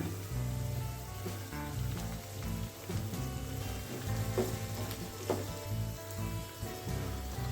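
Curry leaves drop into hot oil in a pan for an okra stir fry, setting off a steady, dense sizzle and crackle that holds close and loud throughout, with no voice.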